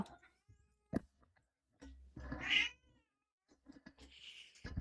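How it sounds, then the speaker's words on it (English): An elderly cat gives a couple of drawn-out, wavering meows indoors, close and moderately loud, among scattered soft clicks and knocks in a quiet room. "I don't know if y'all can hear my cat."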